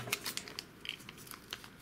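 A sealed plastic zip bag holding collectible coins is torn open by hand, giving a quick run of soft crinkling and ripping sounds, close and fairly quiet, with no talking.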